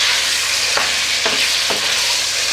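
Pork ribs frying in hot oil for a potato and rib stew, a loud continuous sizzle with a few soft stirring scrapes, no voices.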